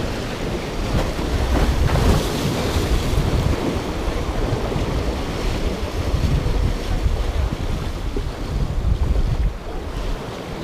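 Sea waves and strong wind around a small fishing boat while catching garfish with a metal vibration lure, a loud continuous wash of surf and gusting wind buffeting the microphone.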